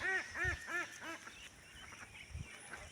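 A goose gives a series of honking calls in quick succession, four or five in a row, fairly close, followed by softer rustling and a few low thumps.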